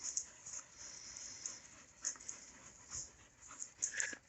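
Worn-out dogs pant steadily after a hot 100-degree day of farm haying, with quick, breathy rhythmic huffs close by and an occasional faint whimper or yip, no talking.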